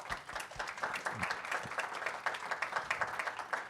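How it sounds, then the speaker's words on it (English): An audience at a panel discussion on immigration gives a quick round of applause: steady, fairly faint clapping from many hands that runs for the whole stretch with no talk over it. "let's give everyone a quick round of applause"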